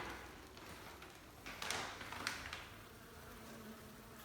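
A honey bee swarm buzzes inside a wall cavity behind sheetrock, where combs sit about three deep. The hum holds steady and moderate throughout and swells briefly in the middle, with no voices.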